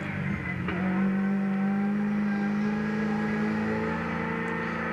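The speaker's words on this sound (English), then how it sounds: "There's Lowndes' car." Craig Lowndes' race car engine heard from onboard at Hidden Valley Raceway during the 2001 Shell Championship, a loud sustained drone with steady high-pitched harmonics, holding at a constant pitch throughout.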